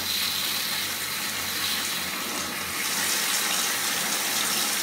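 Water runs steadily from a newly installed tropical rain shower mixer, a continuous close hiss of spray with no talking.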